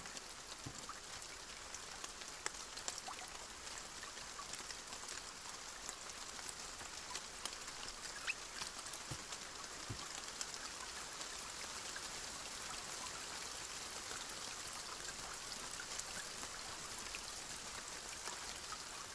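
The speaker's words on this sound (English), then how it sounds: "Man, that is a really pleasant rain track they've got there." Steady rain ambience from the video game Kingdom: Two Crowns: a dense, even wash of falling rain with scattered close droplet taps, continuous and alone with no voices.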